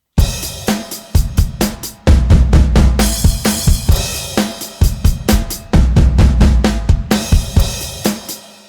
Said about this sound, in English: once you've got the crash and the snare thing together, it's a fairly straightforward sort of fill